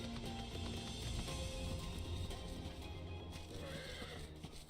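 Horse neighing in the video game Final Fantasy XIV, a whinny under a dense, continuous bed of game music and ambience, with hoof clip-clops mixed in.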